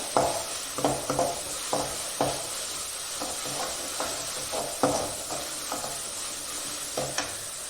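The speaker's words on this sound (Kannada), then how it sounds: "ಚೆನ್ನಾಗಿ ಹೀಗೆ ಎಣ್ಣೆಯಲ್ಲಿ ಹುರ್ಕೋಬೇಕು" Crab tomato gravy base frying in oil in a pan, with steady sizzling and a run of repeated scraping stir strokes about every half second, close and clear with no voices.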